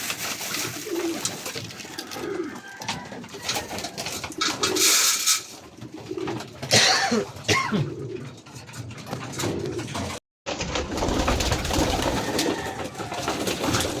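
Pigeons coo repeatedly while pecking at fresh oregano leaves, with soft rhythmic calls and other bird sounds close by and a brief silent gap near the end.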